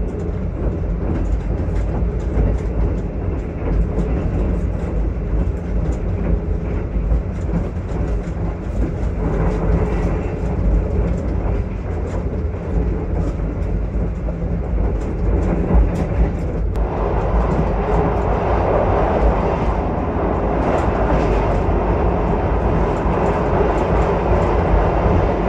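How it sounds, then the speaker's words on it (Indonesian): The Argo Semeru passenger train in Indonesia rumbles steadily on the rails as it departs, a loud continuous roar with rhythmic clatter that picks up in the second half, no voices. "Nah ini persiapan diberangkatkan kereta api Argo Semeru."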